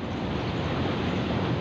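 Steady, loud rush of a large irrigation canal's water flowing by the Indus canal near Layyah, a continuous broadband roar mixed with wind buffeting the microphone, no voices.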